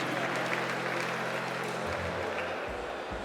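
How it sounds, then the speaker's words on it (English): A crowd at a good-governance symposium in South East Nigeria claps loudly and steadily for a speaker, a dense wash of applause that fills the whole moment before tapering slightly at the end. "Please consider clapping for him."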